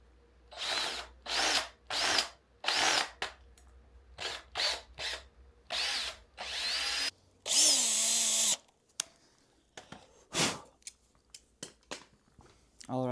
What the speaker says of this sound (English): so I need to drill the hole there.